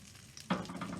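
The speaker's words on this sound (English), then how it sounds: "Maybe you can get a glimpse of my pork chops frying up there." Breaded pork chops fry in a pan, a sudden loud sizzle bursting in about halfway through and crackling on close by after a quieter start, with no talking.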